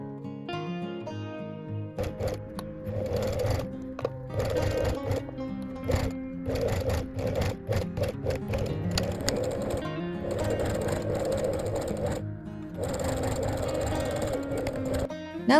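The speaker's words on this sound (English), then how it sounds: "also sew along the top and bottom of the ribbon to secure it in place" A sewing machine stitches ribbon onto a fabric zipped case for knitting needles, running in bursts of rapid rhythmic whirring with short pauses, close and fairly quiet.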